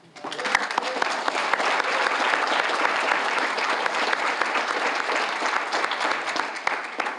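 Audience applause at an award ceremony, steady close clapping sustained for several seconds, with sharp individual claps standing out near the microphone.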